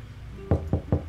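Three sharp knocks on a door, evenly spaced and fairly close, heard alone in a quiet room.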